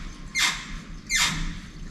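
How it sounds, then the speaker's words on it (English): Two short squeaks from the clutch pedal pivot pin of a Lotus Elise as the pedal is pressed, each a brief high-pitched creak, fairly close and alone with no talk. "fix a squeak that I think is coming from the clutch slave cylinder pivot pin"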